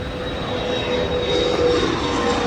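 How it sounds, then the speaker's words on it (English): Delta jet aircraft at Detroit Metropolitan Airport: a loud, steady engine roar with a faint whine, continuous for the whole stretch with no voices. "Lots of Delta Jets here at the airport."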